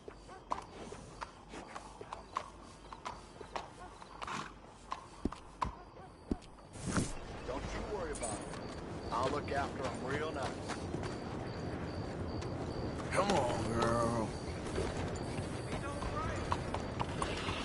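Horse hooves clip-clop at a stable in the video game Red Dead Redemption, with scattered hoofbeats at first and then denser steady plodding, mixed with talking voices and other game sounds.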